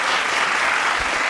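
A burst of crowd applause, loud and steady, fills a brief moment without any pause or talking over it.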